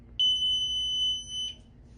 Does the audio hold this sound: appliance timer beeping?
yes